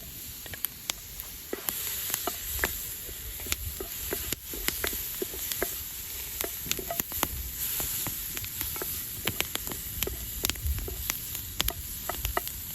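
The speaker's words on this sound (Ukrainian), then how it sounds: "Перемішуємо наше сало. потрібно, щоб жарилось чудово." Pork fat (salo) sizzles and crackles in a heated cauldron (kazan), a steady frying hiss scattered with sharp pops and spatters, heard close and alone throughout.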